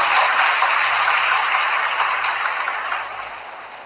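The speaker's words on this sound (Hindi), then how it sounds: "जोरदार ताली बजाकर स्वागत करें।" Audience at a Shiv Mahapuran katha gathering claps loudly in welcome, a thick continuous burst of applause that slowly fades toward the end.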